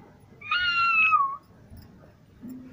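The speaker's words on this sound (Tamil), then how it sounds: "இங்க சந்தில ஒளிஞ்சிருக்கு, அதுவும் ரெண்டு பூனை." Newborn kittens hiding in a narrow gap at home give one clear, drawn-out, high meow at close range, followed by quiet background.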